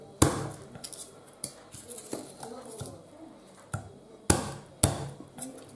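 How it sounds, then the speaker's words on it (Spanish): Garlic cloves are struck with sharp blows in a kitchen while making pickled cauliflower, giving about seven loud, separate knocks spaced across several seconds, close by, with talking in between. "a los ajos le pegaremos un golpe"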